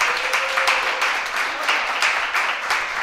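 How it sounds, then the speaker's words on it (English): An audience applauds a guest speaker at an evening talk: dense, steady clapping from many hands fills the room at moderate loudness, swelling slightly in waves, with no speech over it. "So a round of applause for our guest speaker."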